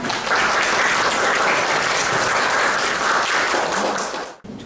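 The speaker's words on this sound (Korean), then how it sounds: "큰 박수로 환영 부탁드립니다." Welcoming applause from a seminar audience at a Chungbuk policy vision event, steady and loud dense clapping that holds throughout before cutting off abruptly near the end.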